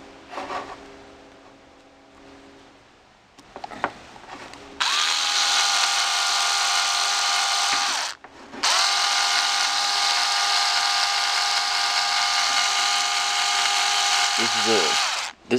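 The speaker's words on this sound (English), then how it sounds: "drill it into the steering block" A power drill drives a screw into the steering block of an RC car, a loud steady whine that runs for several seconds, stops briefly, then resumes, after some quieter handling and rustling at the start.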